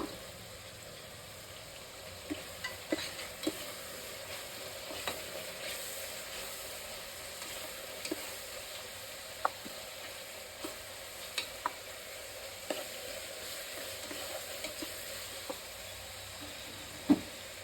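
Ground green chilli paste and turmeric powder fry in hot oil in a pan for a country-style biryani, a soft steady sizzle with scattered pops and crackles and occasional stirring clicks, no voice.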